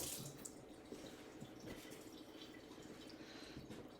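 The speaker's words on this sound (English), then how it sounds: "rinse my hands" Tap water runs steadily into a kitchen sink while hands are rinsed during prep of a standing rib roast, a continuous close splashing wash with small drips and no talk.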